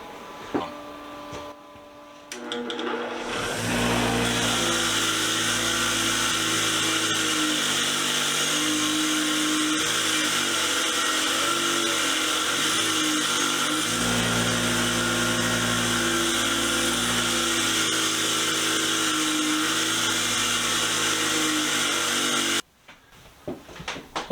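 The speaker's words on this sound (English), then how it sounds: "I want to throw these on the wire wheel, get them cleaned up a little bit" A bench wire wheel grinds steadily against used hand tool wrenches for about twenty seconds, a loud, continuous whirring buzz with a brief quieter start and a sudden stop near the end.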